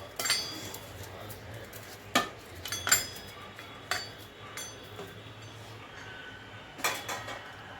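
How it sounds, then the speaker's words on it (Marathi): A spoon scrapes and clinks against a cooking pot as chicken masala and washed rice are mixed for chicken biryani. The knocks come in irregular, close, fairly quiet bursts. "मिक्स करून घेऊ आता व्यवस्थित."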